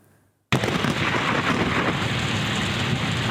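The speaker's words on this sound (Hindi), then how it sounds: "रात गए विहाड़ी और गर्दोनवाह में गरज चमक के साथ बारिश का सिलसिला शुरू हुआ" Heavy rain with thunder at night in Vehari, Punjab, starts abruptly after a brief quiet moment and then holds as a loud, dense, steady roar with no voices over it.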